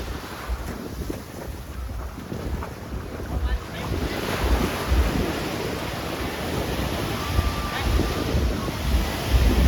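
Strong wind buffets the microphone while surf rolls and crashes steadily on Chaweng Beach, Koh Samui, a dense broadband roar that swells slightly louder toward the end, with no talking.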